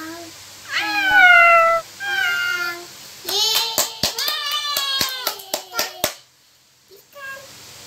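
A child imitates a cat with several drawn-out meows, followed by a quick burst of hand claps and more playful meowing, close and loud.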